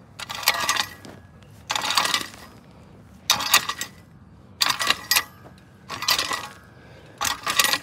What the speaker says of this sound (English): Now normally you don't get that clinkety clanky sound when you're raking dirt.